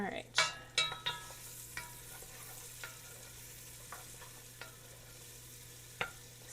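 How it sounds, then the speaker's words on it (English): Shallots with a sprig of rosemary sauté in a pan, a soft steady sizzle under a few clattering stirs and scrapes of a utensil, close and fairly quiet. "these are going to do a quick saute, maybe only like 4 or 5 minutes."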